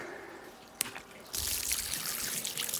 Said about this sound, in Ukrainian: вода пішла з тої бочки